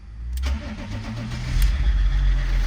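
Car engine running during a jump start, the donor car given a little throttle; a steady low engine drone rises and thickens midway, staying loud and close with no talk.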